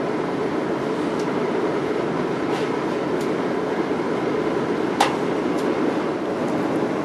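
Passenger train rolling on rails near Martin Airport toward Washington DC, heard from aboard as a steady loud rumble with faint clicks and one sharp metallic squeal partway through, no voices.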